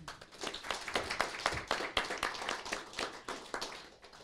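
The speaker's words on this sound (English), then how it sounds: "Big round of applause, guys" Applause from a small audience at a startup conference session in Calgary, with distinct individual claps in an irregular patter, fairly close and somewhat sparse, continuing for several seconds.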